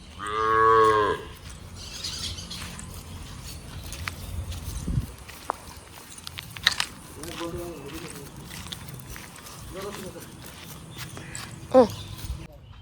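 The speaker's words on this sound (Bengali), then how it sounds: "আমাদের সব গরু এখন মাঠে।" A cow gives a loud, close moo, followed by softer lowing calls from cattle, with footsteps and people talking nearby.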